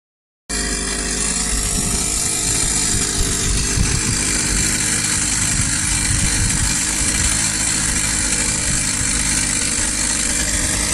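A motorized bicycle engine, just repaired after a cylinder failure, starts and keeps running with a steady, loud, buzzing putter close by, alone without talk for the whole stretch.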